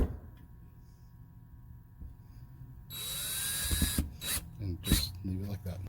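After a quiet stretch, a power drill whirs up, driving screws into a double-chamber vacuum sealer's H-style sealbar. Short, loud bursts of the motor stop and start close by.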